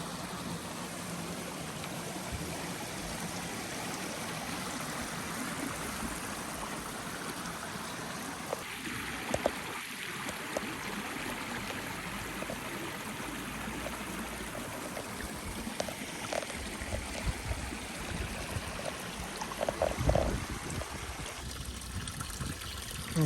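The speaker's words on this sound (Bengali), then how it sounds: "এটা সম্পূর্ণ পাহাড়ের চূড়া থেকে আপনার ঝর্ণা হয়ে আসতেছে পানিটা।" A steady rushing of a mountain stream flowing down from the peak, unbroken throughout, with a few faint knocks and splashes rising above it.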